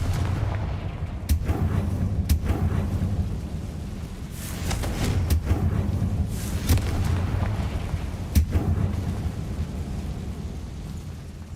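Confringo fire spell explosions in the video game Hogwarts Legacy: several loud, booming blasts land at irregular intervals over a continuous low rumble, with no talking.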